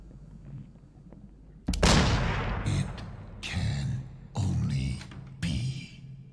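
Gunfire from Layers of Fear 2 hits as a sudden loud blast followed by three more heavy shots spaced about a second apart, booming and close over a low rumble.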